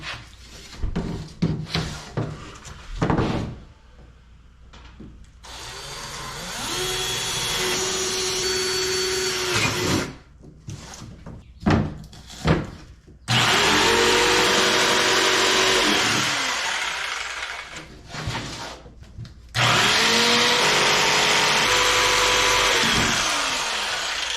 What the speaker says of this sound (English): I can stick the jigsaw in there and start cutting it